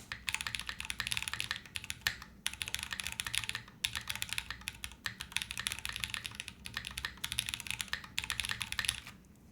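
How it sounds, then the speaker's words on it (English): Typing on an OG60 mechanical keyboard, including its spacebar, a continuous fast stream of crisp key clacks in bursts with brief pauses, close and alone without talk. "Fun sounding spacebar, I gotta admit."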